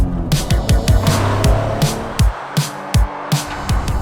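A Honda NSX NA1 coupé is driven on roads beside a river, with its engine note climbing repeatedly through gears and sharp shift breaks between pulls, loud and close as heard from on board, with no talking.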